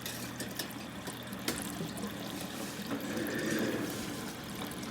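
Water runs steadily into an external siphon grow bed at a reduced flow, a soft continuous trickle close by with no talking.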